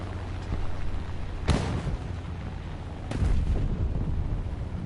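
Bombs go off near tanks in a War Thunder battle: two heavy booming blasts about a second and a half apart, each a sharp crack trailing into rumble, over a steady low engine drone.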